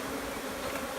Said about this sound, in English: There's a whole mess of bees.